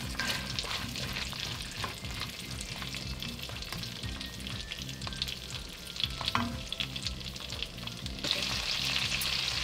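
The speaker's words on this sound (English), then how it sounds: "now we're just gonna add in these shallots. And we're just gonna let these sit and soften for just a few minutes." Shallots sizzling as they soften in a pot for beef bourguignon, a steady close frying crackle with occasional stirring clicks, growing a little brighter toward the end, without talk.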